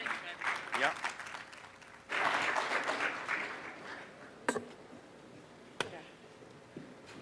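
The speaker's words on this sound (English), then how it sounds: "Give them a big round of applause as they come up" A short burst of clapping at a 50th anniversary celebration as students come up swells and fades, followed by a few sharp isolated knocks in a quiet room.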